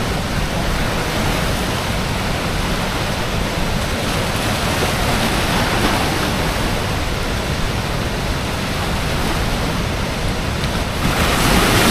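Floodwater from the spillway of the Tri An hydropower dam roars in a dense, continuous rush, loud and steady throughout with turbulent waves churning, swelling slightly near the end.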